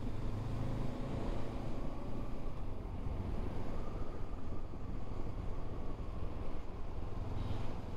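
A Honda CL500 motorcycle riding along, its engine a steady, continuous drone with road and wind noise holding at an even level throughout.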